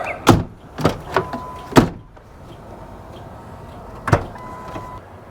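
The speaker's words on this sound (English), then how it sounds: "Window up, window down." Power window motor of a 2000 Ford Explorer running up and down after a regulator install, with several sharp thuds and clicks as the glass stops, a steady whir between them, close and loud.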